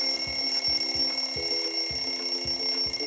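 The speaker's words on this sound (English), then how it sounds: "Okay, you can stop there, Mr. Alarm Clock. Thank you. Oh, that was so loud." An alarm clock rings continuously and loudly in the Minecraft video game, a steady electronic tone with a regular repeating pulse throughout.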